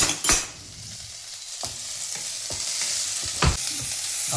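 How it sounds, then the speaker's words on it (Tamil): Large onions sautéing in a pan while a ladle stirs them, a continuous sizzle punctuated by several sharp scraping knocks of the ladle against the pan. "லைட்டாக பெரிய வெங்காயத்தை எல்லாத்தையும் போட்டுருங்க. வதக்கிறதுக்கு கரண்டி எடுத்துக்கோங்க."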